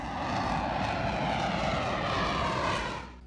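A jet aircraft engine gives a loud, sustained, broadband roar that holds steady for about three seconds before starting to fade.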